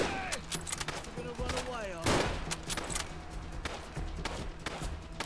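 Rapid gunfire bursts and scattered shots from the video game Fallout London crackle throughout, with a sharp blast near the middle, while a player talks over the action.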